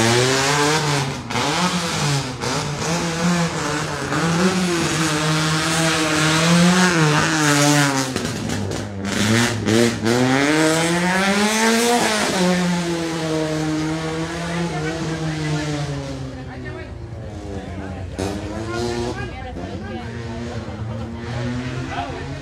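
Rally race car on a fast dirt circuit in Puerto Rico, Pando, roars past with rising and falling engine revs and gear changes, loud and close, while a commentator talks over it.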